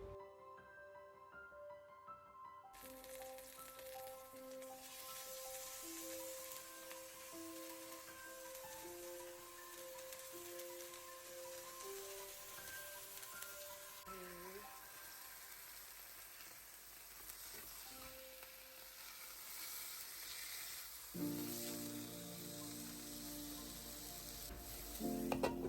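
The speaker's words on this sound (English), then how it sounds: "I've seasoned my fish with some salt, paprika, fish seasoning, and pepper, and I'm just gonna pan fry it." Salt, paprika and pepper seasoned fish pan frying, a soft continuous sizzle beneath gentle background music that runs steadily throughout.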